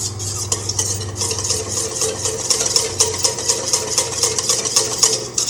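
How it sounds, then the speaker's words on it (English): A bread flour dough mixture for focaccia is stirred in a bowl, giving a steady run of rhythmic scraping and swishing strokes, close and fairly loud, with no one talking. "We're going to stir this together."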